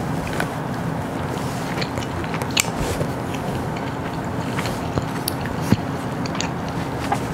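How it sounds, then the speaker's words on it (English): Someone bites into and chews grilled beef wrapped in betel leaves, seasoned with lemongrass and garlic, giving soft, steady close-up mouth noises with a few sharper crunchy clicks. "I'm gonna give it a taste now."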